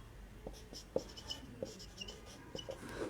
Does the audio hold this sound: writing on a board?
yes